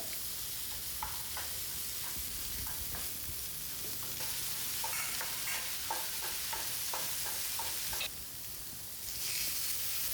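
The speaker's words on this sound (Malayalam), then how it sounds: "ഇനിയിപ്പോൾ ഉള്ളി പച്ചമുളക് അത് അരിഞ്ഞത് നമുക്ക് വഴറ്റിയെടുക്കാം" Onions and green chillies sautéing in hot oil, a steady sizzle with repeated stirring scrapes, the hiss swelling briefly louder toward the end.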